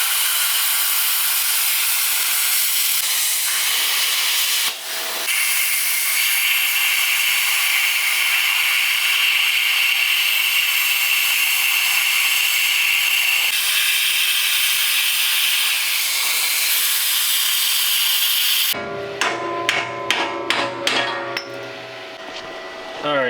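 A budget plasma cutter slices through metal welded around the bottom of a part, a loud, steady hissing roar that runs unbroken for most of the time, then cuts off into a series of sharp metallic clanks and hammering knocks.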